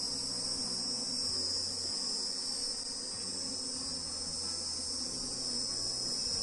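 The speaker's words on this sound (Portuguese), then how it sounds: "Olha só, já tem bastante abelha." Bees buzz around a wooden hive box rubbed with onion, mixed with a steady high insect drone like crickets and a low hum throughout, continuous and fairly loud with no talking.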